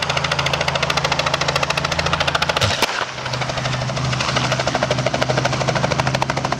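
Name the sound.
helicopter engine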